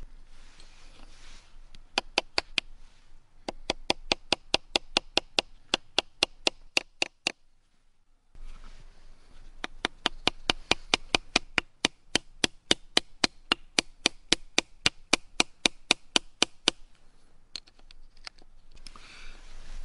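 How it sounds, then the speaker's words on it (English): A hammer drives small nails into a flat wooden log outdoors in two long runs of sharp, evenly spaced taps. A short pause separates the runs, and the strikes ring out close and crisp. "I hammer those into the wood of a flat log just to hold the stone steady"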